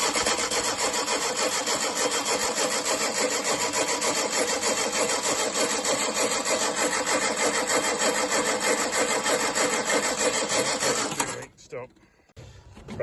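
Rootes 1725 engine in a Fastback with the choke pulled out, cranking and then running with a fast, busy mechanical chatter at a steady level for about eleven seconds before it cuts out abruptly.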